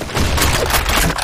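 A grenade blast in Counter-Strike on the Sand Storm II map, a loud, dense burst of booming, crackling noise lasting about a second with no talk over it.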